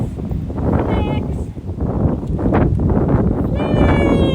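Strong wind buffets the microphone in a loud, steady rumble, with a voice speaking over it.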